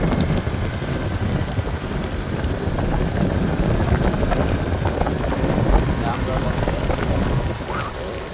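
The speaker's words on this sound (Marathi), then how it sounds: "जाम पाऊस ना" Heavy monsoon rain pours near the coast at Anjarle, a loud, dense hiss of drops battering surfaces mixed with rumbling wind buffeting the microphone, continuous and close throughout.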